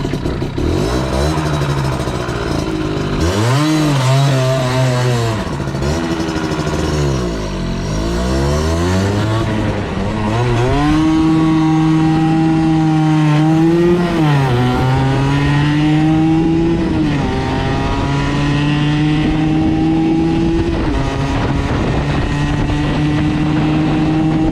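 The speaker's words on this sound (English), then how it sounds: "we've taken out our Suzuki RG50 Gamma and we are going to attempt to get this bike to 110 k's an hour on a flat road" A Suzuki RG50 Gamma two-stroke motorcycle accelerating on a flat road, its buzzing engine loud and close, rising through the revs, dipping at gear changes, then holding a high, strained whine.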